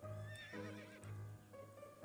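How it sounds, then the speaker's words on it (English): A horse in the video game To The Moon neighs in a long, tremulous whinny that rises and falls, clear and close, with no talk over it. "There is a horse. It is available for riding."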